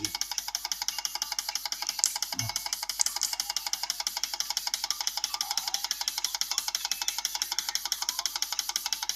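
An engine idles steadily while its fuel injectors are being cleaned, giving a rapid, even mechanical ticking and knocking pulse that runs close and continuous, with a brief low thump partway through.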